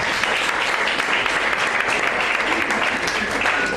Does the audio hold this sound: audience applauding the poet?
yes